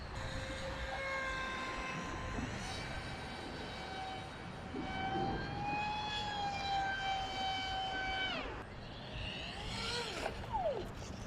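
Electric motor of a SCAMP mini parkjet model plane in flight, a steady rising whine with clear harmonics that climbs and swoops as throttle changes, continuous and fairly close for most of the stretch before a sharp pitch drop and a brief surge.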